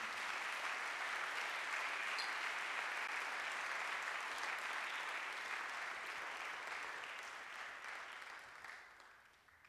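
Sustained applause from a church congregation, a dense, steady wash of hand claps lasting several seconds before gradually tapering off at the end, with no talk over it.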